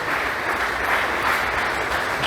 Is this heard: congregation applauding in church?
yes